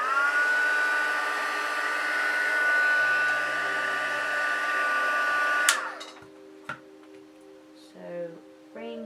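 Heat tool blowing hot air to heat set paint, a steady loud whooshing roar for several seconds that cuts off abruptly, followed by quiet room sounds and brief talking.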